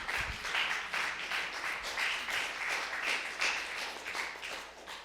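A church congregation claps together in a rhythmic, sustained round of applause, many hands beating in quick repeated pulses that fill the room for several seconds without speech.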